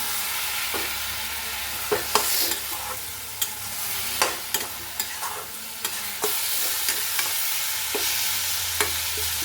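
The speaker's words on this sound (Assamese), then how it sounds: "এতিয়া এই আলু দুটা কুটি লৈছোঁ দীঘলতে, এই দুটা দি দিম। এই দুটাও ভাজি ল'ম" Long-cut potatoes fry in oil in a pan with tomato, a steady crackling sizzle broken by repeated sharp scrapes and knocks of a spatula stirring, close and moderately loud with no talking.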